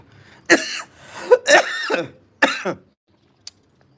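A man coughs several times after smoking a cigarette: three separate harsh, close bursts of coughing over a few seconds, then a brief small click, with quiet in between.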